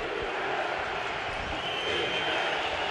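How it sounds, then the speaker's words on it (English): A loud, steady roar from the home crowd at a college football stadium, Hawaii Warriors fans yelling and cheering to disrupt the offense, a dense sustained wall of crowd noise with no breaks. "Crowd's getting loud and noisy, trying to help the Warrior defense."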